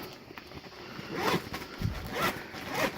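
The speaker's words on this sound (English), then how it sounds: "It's a bag that's made with a circle of fabric and zips up" A zipper runs along a Dyneema fabric zip bag made from a circle of fabric, giving close, scratchy zipping strokes in several bursts with no talking.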